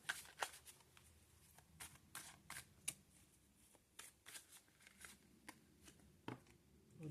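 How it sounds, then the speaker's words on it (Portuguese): Tarot cards handled and drawn from a deck, with quiet crisp flicks and shuffling snaps in irregular bursts, close but faint against a low background, no talking. "Vou tirar mais 2 cartas."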